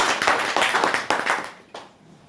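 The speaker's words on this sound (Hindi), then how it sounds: "एक बार जोरदार ताली हो जाए।" A crowd at a speech claps enthusiastically, a dense burst of applause that swells and then fades out toward the end.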